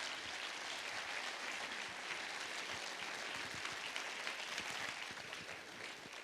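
An audience at a new-voices singing festival's final night in Vittorio Veneto applauds in a dense, continuous wash of clapping that holds steady throughout and fades slightly at the end.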